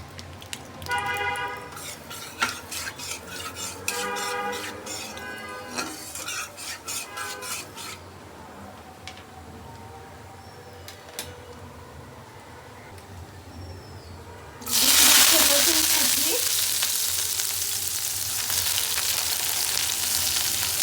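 Pointed gourd mash is stirred in a pan with mustard oil. A spatula scrapes softly over a low background while a voice is heard early on, then a loud, steady sizzle surges up and holds to the end.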